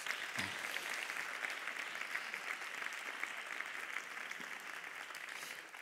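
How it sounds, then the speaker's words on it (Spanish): Applause fills a hall at an international teachers' union congress, a steady, sustained clatter of many hands clapping throughout. "Un aplauso para Manu."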